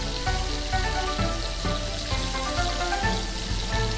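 Dumplings frying in a pan, a steady close sizzle and crackle of hot oil with faint popping throughout, no talking.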